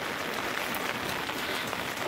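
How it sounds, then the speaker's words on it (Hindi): Steady rain falls in a dense, even hiss with no breaks, heavy and close across the whole moment. "बारिश रुक जाए यार"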